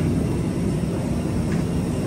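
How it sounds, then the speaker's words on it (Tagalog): An airplane at NAIA airport, a Cebu Pacific jet, produces a steady, fairly loud broadband engine roar that holds constant throughout with no talk over it. "Ito na po ang eroplano."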